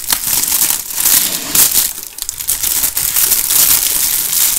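Plastic wrapping crinkles and crackles loudly up close as a package of meat is torn open in a home kitchen, a continuous rustling with no talk over it.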